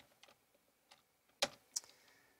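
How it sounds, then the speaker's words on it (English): Soft keystrokes on a computer keyboard, a few scattered light taps followed by two sharper, louder clicks, heard close up in a quiet room with no talking. "I go and I type in month here."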